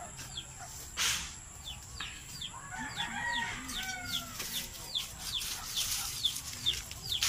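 Ilocano heritage-breed chickens cluck and crow repeatedly in a rural farmyard, with overlapping bird calls at moderate distance and steady background ambience.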